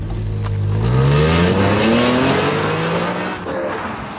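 A 2003 BMW launches using replicated launch control, its engine held near 2000 RPM and then released, rising into a loud, climbing rev as the car pulls hard away, close and continuous.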